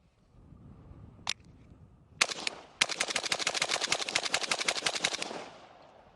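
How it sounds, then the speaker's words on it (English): Rapid rifle fire from a Kalashnikov at about ten yards, with a single sharp shot followed by a dense, fast string of loud cracks lasting about three seconds, heard alone without talk. "I'm going to fire about 10 rounds in this 8-inch circle here at about 10 yards"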